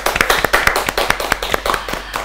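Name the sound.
audience applause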